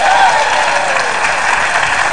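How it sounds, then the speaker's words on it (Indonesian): A television studio audience on an Indonesian talk show breaks into loud, sustained applause, a dense, even roar of many clapping hands that holds steady throughout. "tepuk tangan dong."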